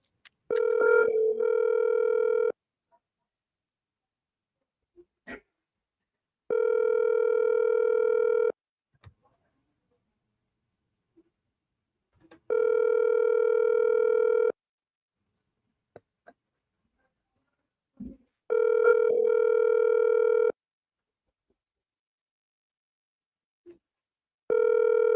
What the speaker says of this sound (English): It's calling, not ringing.